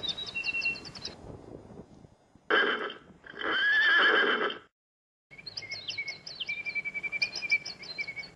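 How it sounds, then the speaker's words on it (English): Wild mustang horses whinny loudly in two long, shrill calls in the middle, with birds chirping steadily before and after in open sage country at Page Springs, Oregon. "Never get tired of seeing these wild horses."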